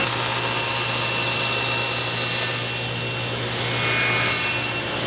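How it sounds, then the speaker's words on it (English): A table saw blade runs through plywood while cutting a cross cut sled, a loud steady high-pitched whine with a constant low hum beneath, holding evenly and easing slightly toward the end. "Now we're gonna raise our blade up and we're gonna make a cut all the way down to the end"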